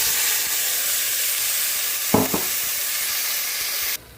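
Chicken sizzling and frying in a pan for egg biryani, a steady broadband sizzle throughout with a couple of brief stirring scrapes near the end before it cuts off.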